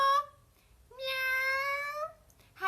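A voice imitates a cat's meow in a long, drawn-out, tonal call with a slight rise, heard close and alone between brief bits of other vocal sound.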